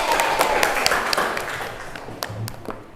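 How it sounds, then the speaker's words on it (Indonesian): A classroom of students claps together during a teacher's practice lesson: a scattered run of sharp, uneven hand claps that thins out over a few seconds, with faint room noise underneath. "Oke, tepuk tangan."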